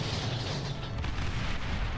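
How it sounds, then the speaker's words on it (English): Explosions boom across the map of a strategy war game, a dense, continuous low rumble of blasts and gunfire-like crackle with no talk over it. "explosions across the map"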